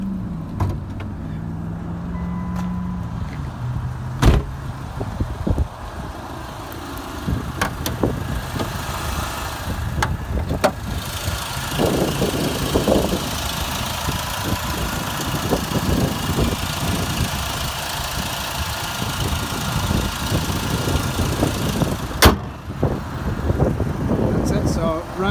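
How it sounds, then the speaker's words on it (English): A 2008 Chrysler PT Cruiser Convertible with 127,000 miles at a Las Vegas car auction runs at a low, steady idle, heard up close, with people talking over it and a few sharp clicks. "So I'm gonna go ahead and start it up so you can hear it run."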